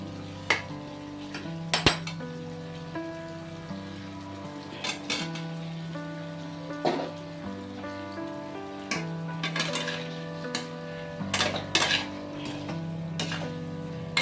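Potatoes stirred into an egg and red lentil curry in a pan, with a spoon scraping and clinking against the metal at intervals over a steady low background, with no talking.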